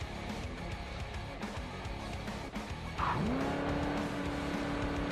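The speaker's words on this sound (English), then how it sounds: "I'm driving a nice silver car" A silver car driven in the video game Crash Time 5 Undercover gives a continuous engine drone with tyre noise. About two thirds of the way through, a rising engine whine comes in and holds steady, with no talking.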